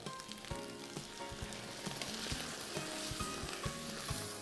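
Loud, steady sizzling of shrimp and vegetables frying in a hot pan, with occasional scrapes and clinks of a utensil stirring.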